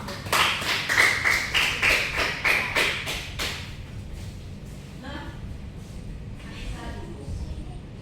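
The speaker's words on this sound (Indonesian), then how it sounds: "Terus tepuk tangannya dong." A classroom group claps together for a team stepping up to present: roughly a dozen firm, evenly spaced claps over about three seconds, then quieter room noise with faint talk.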